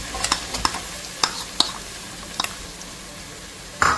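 Finely chopped onion hits hot oil in a pan, a soft steady sizzle broken by several sharp stirring scrapes and clicks from a spoon, close and moderately quiet, with no talk.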